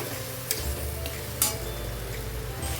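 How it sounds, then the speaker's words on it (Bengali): Spatula stirring masala egg curry in a pan, steady low sizzle punctuated by a few distinct clinks and scrapes against the metal, close and alone without talk. "ভালো করে ভালো করে নাড়াচাড়া করে তারপরে জল অ্যাড করবো আমি"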